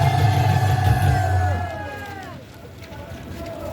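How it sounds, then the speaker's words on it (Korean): A crowd at a Korean political rally cheers and applauds to welcome a speaker, a loud sustained roar with whistling voices that gradually thins out over a few seconds. "박수로 맞이하겠습니다"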